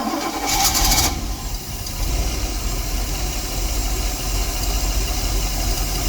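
A 1977 boat engine cranks for about a second with a rapid whirring starter, then catches and settles into a loud, steady, rumbling idle, heard close up with no talking.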